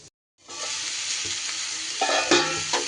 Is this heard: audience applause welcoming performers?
no